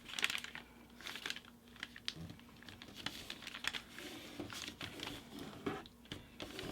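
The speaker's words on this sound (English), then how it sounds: "Gonna put this flap like this, and then fold it to this crease." Paper being folded and creased into an origami baby dragon, giving soft crinkles and sharp crisp snaps scattered through a quiet room, close and fairly faint, with no talking.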